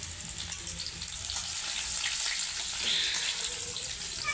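Chopped garlic and cumin seeds sizzle in hot oil in a pan, a steady, fairly quiet hiss and crackle that swells slightly partway through, with no talking.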